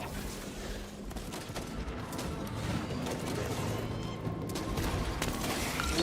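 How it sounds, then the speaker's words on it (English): Gunfire in the Warhammer 40K Space Marine 2 video game, rapid overlapping bursts from a three-round burst rifle mixed with other weapons and combat noise, dense and continuous throughout. "Is that the 3-round burst one, or are you just shooting it as 3-round burst?"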